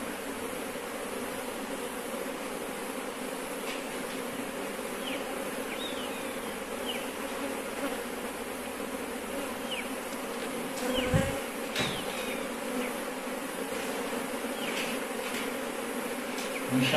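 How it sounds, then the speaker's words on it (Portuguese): A large swarm of Apis honeybees in an abandoned sugar mill drones in a continuous, dense buzz, close and steady throughout, with a few brief thumps and knocks partway through. "E muita abelha."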